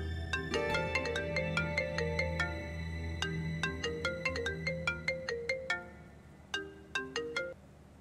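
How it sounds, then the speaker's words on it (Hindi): A phone rings on and on with no one answering, a steady run of repeated electronic tones in a domestic drama scene, fairly quiet and heard alone without speech. "ये फोन क्यों नहीं उठा रहा आखिर?"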